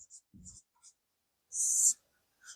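An equation being written during a Class 10 math lesson: a few soft pen scratches and short strokes, then one longer stroke, all faint and close in a quiet room, with a brief low murmur early on.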